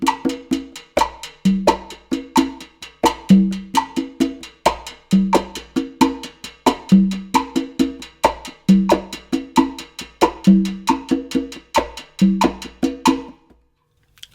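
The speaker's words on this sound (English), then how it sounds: "I just pick one of those rhythms to play with this rhythm on timbales," Bossa nova rhythm played on timbales, with bright metallic strokes and shell clicks in a steady repeating syncopated pattern and deeper low hits recurring each bar, close and clear, ending abruptly with no talking.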